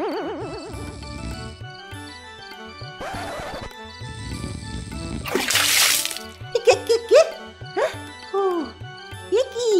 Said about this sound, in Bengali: আপনি আমার গায়ে জল ঢেলে দিলেন যে।